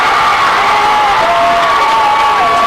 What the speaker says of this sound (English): or student body, making the noise they are during the foul shooting here at the high school level